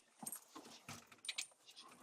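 An excited drug-sniffing dog sniffs and pants in short, uneven bursts while searching a house, close and fairly quiet, with faint jingling like tags or keys.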